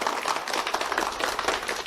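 Warm applause from a company audience welcoming guests, dense rapid clapping heard close and steady for a couple of seconds with no talking.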